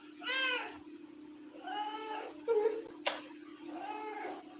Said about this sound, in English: did you want to see my cat her name is Zui